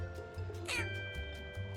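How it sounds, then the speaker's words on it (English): In the video game Mewgenics, a cartoon cat lets out one short, crackly meow that cuts briefly through steady game music and a low, pulsing background hum. "Like the crackly meow."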